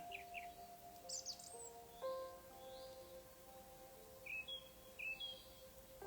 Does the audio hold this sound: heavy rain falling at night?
no